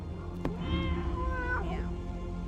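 A cat in a horror video game gives two drawn-out meows, one after the other, close and clear over a low, droning ambient background.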